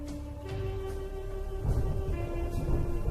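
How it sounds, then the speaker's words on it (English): Violent rain shower with thunder in a desert: low, rolling rumbles swell over a steady wash of rain, growing heavier toward the end. "Sometimes, if rarely, the haze becomes so dense that it turns into violent rain showers"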